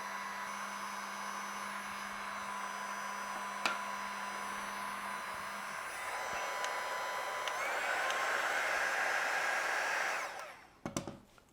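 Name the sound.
heat gun blowing to bend acrylic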